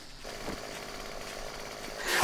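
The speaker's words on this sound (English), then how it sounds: "Oh, you've got the chainsaw!" A chainsaw in the video game 7 Days to Die revs in a steady, gritty buzz that swells louder toward the end.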